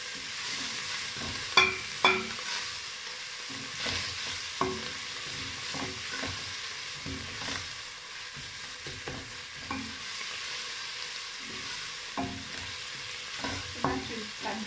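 Coriander (dania) fries in a pan to form a paste: a constant sizzle broken by frequent spoon stirs and scrapes, close and alone without talk.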